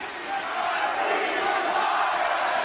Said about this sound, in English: We get a please retire chant from the crowd.